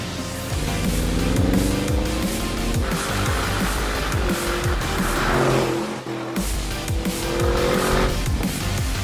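A 2020 Audi RS7 Sportback with Quattro all-wheel drive revs and accelerates hard on a twisty road through several gear changes, tires briefly squealing, loud and close with no talking.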